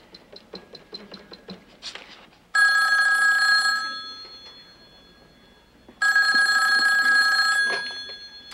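A telephone bell rings in two long, loud bursts separated by a pause, preceded by a run of quick ticking clicks.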